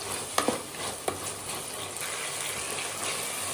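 Beans and carrot frying in a pan for bisi bele bath, a steady close sizzle with a couple of sharp clinks and scrapes from stirring near the start.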